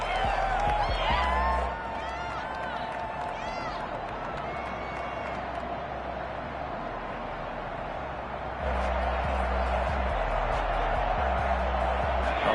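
Stadium crowd noise from a football video game: a loud, continuous roar of a home crowd that dips in the middle and swells again, with a commentator speaking over it.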